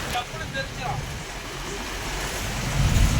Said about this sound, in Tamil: கடல் ஓரளவுக்கு கொந்தளிக்குது